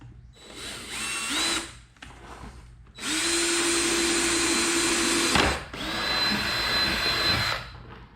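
A power drill whines in separate bursts as it bores holes into a plastic 5-gallon bucket for a chicken waterer. The pitch rises as each burst spins up, with short pauses between runs and one long sustained run in the middle.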